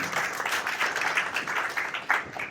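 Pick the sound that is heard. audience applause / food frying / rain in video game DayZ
audience applause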